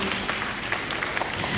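Audience clapping for a school at a Thai school event in Pattaya, a continuous crowd patter with a few sharper individual claps standing out, moderately distant and steady.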